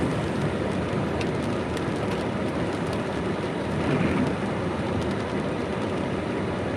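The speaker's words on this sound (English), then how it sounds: "I don't know if I'm gonna take my phone out in this rain if it's pounding like this" Heavy rain pounds steadily outside, a dense, constant hiss of downpour with no letup throughout.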